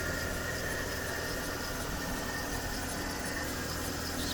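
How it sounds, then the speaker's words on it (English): A 2007 Mercedes CLK 350 idles with a faint squeak from its engine belts, a steady engine hum and whine held constant throughout, no voices. "we've got a little bit of a squeak coming from the belts"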